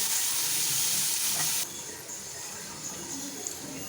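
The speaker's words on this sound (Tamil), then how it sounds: "வெங்காயம் போட்டு வதக்குங்க." Onions sauté in hot oil with mustard seeds, cumin and curry leaves, giving a steady close sizzle that drops suddenly to a softer hiss partway through.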